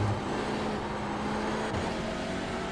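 Mazda MX-5 race cars in a Nurburgring endurance racing game, a steady engine hum with a faint tonal whine that holds level and then drops slightly, with no voices.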